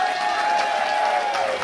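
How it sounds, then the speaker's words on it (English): Audience at a Limitless Wrestling show in Maine clapping and cheering, a dense steady wash of applause from a crowd filling the venue, with voices shouting under it. "give yourselves a round of applause"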